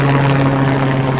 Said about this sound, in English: Oh, here comes the helicopter.